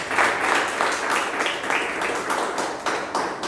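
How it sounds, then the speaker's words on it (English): Audience members at a Toastmasters club meeting clap in a brief, dense round of applause, close and fairly loud, with no talking over it. "Please give a big round of applause"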